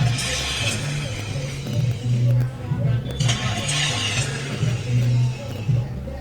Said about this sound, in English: Is my car having trouble starting?